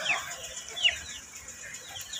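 Backyard chickens in a wet, rainy season give a few short, scattered clucks and squawks. The calls are faint and somewhat distant, over a soft hiss that sounds like steady rain.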